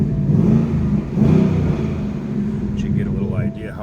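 A 2018 Ford Mustang GT Fastback engine revs with a loud low rumble that surges twice, then settles to a steady idle growl with no talk over it.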